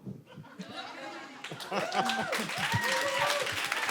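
A live audience claps and laughs in a steady, building wash of applause, with chuckles mixed in, while a voice talks over the crowd noise.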